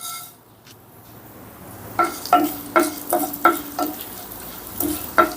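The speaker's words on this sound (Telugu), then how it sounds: "వీటిని ఒక నిమిషం పాటు వేపుకుందామండి" Whole cloves, cardamom, peppercorns, cinnamon and coriander seeds frying in hot oil for a cucumber-potato masala curry, a soft sizzle underneath a series of sharp metallic stirring clinks and scrapes of a spoon against the pan.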